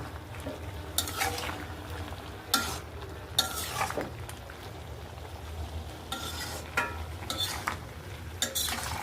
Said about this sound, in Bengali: ঢাকনাটা উঠাই নিয়ে টমেটো দিয়ে দিলাম। এখন একটু নেড়ে চেড়ে দিব।